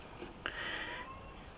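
A pet parrot, kept alongside a Goffin cockatoo, gives a short loud yelling call in the background of a home kitchen, one sustained cry over steady room noise.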